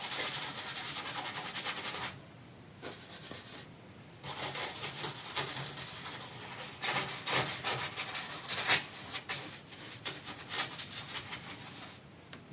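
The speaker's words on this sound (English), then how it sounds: "Just scrubbing it on." A paintbrush scrubs oil paint onto canvas in a dense, rasping run of close strokes that stops briefly and starts again, fairly quiet and with no talking.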